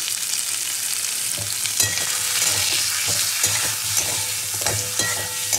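Mango pieces frying and being stirred in a pan with salt and turmeric, a steady close sizzle broken by repeated scrapes and clinks of the spatula, with no talking.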